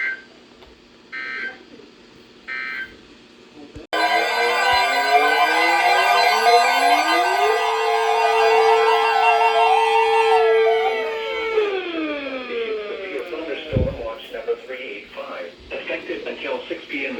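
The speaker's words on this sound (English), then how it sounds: "This has been a test of the new weather radio warning alarm device." A weather radio warning alarm tone from a US emergency alert broadcast blares as a loud, steady electronic tone lasting several seconds, following a broadcast voice and then fading into more speech.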